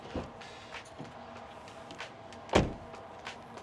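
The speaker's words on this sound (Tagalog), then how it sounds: "Ganda pa rin ng latak ng sarado ng pinto." A 2017 Honda City car door swings shut with one solid, close thud near the end, preceded by faint clicks and handling noises in a quiet interior.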